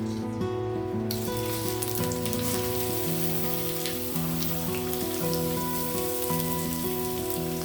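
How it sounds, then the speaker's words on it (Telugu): Sliced onions dropped into about five spoons of heated oil for a chicken dum biryani, giving a steady, dense sizzle and crackle that runs the whole time with no talk. "ఇదిగోండి, ఉల్లిపాయలు వేసేసాను."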